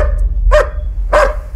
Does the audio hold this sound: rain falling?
no